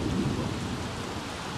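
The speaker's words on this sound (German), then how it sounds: "So laut der Regen, ey." Steady, loud downpour of rain with a low rumbling thunder roll underneath from the video game The Sims 3, continuous throughout with no voices.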